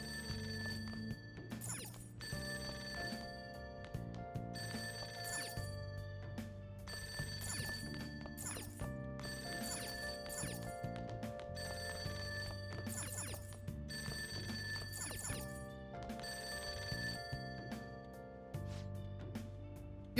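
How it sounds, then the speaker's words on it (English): In the video game Persona 5, a telephone rings from downstairs in repeated ring bursts layered over looping background music, with no talking. "That ringing sound isn't coming from my cell phone. Hear it coming from downstairs."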